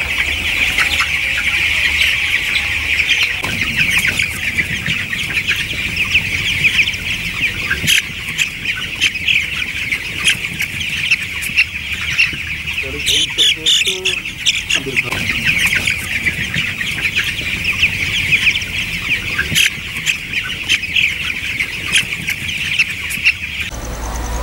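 A flock of chickens on a poultry farm clucks and squawks continuously, a dense close chorus of overlapping calls that never lets up, with faint background sounds mixed in.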